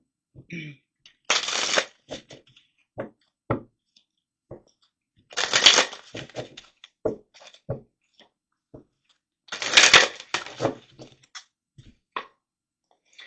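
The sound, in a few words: shuffling tarot cards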